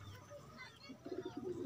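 Pigeon coos from a five-year-old 19-number kadi racing pigeon, low soft rolling calls coming in short bursts close by, with faint background murmur beforehand.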